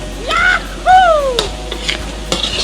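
Quail being stir-fried in a pan with sliced bird's eye chilies and kaffir lime leaves, a steady close sizzle with spatula scrapes and clinks, no talk.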